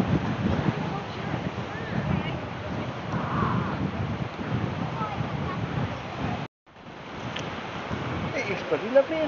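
Wind buffets the microphone on a walk through the seaside town of Lynmouth in Devon, a constant rough rumble with surf-like wash beneath, briefly dropping out before resuming, with faint talk underneath.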